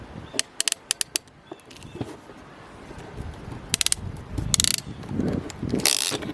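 A ratcheting crimp tool squeezes a hose clamp on an RV water heater drain fitting, with a few quick clicking bursts of the ratchet close by amid soft handling noise and rustling.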